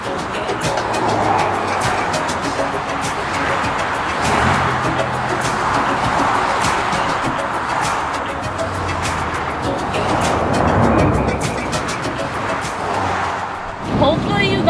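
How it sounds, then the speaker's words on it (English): A CruiseAmerica RV van rumbles and rattles steadily while driving on the road, a continuous low road and engine drone with a person talking over it. "all this rumbling of the van, I feel like I can't even listen to music"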